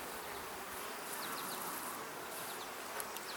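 Honey bees buzz steadily around an open hive with no queen excluder, a dense, continuous drone close by with no talking.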